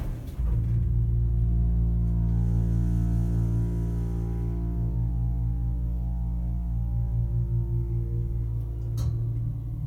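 Dover-Marshall/Headrick Oildraulic hydraulic elevator in a Pittsburgh building running: a steady low motor and pump hum with a faint pulsing throb, close and continuous for the whole stretch, with no voices.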